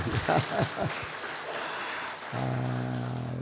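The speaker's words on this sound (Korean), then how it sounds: "우리 하나님께 영광의 박수 다시 한번 드립니다" Church congregation at a Sunday service applauding the choir, a patter of clapping under a pastor's speech that gives way to a sustained, steadier tone near the end.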